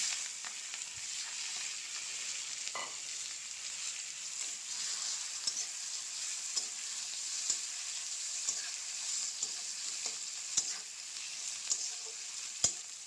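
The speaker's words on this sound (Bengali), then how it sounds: "এই তেলটার মধ্যে দিয়ে দেব পেঁয়াজ কুচি" Chopped onion frying in hot oil left from browning meat, a soft steady sizzle with occasional spoon taps and stirring scrapes, no voices.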